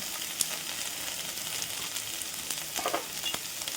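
Ginger, garlic and ground spices fry in a pan, giving a steady close hiss and sizzle with a few light clicks of a spoon stirring through it.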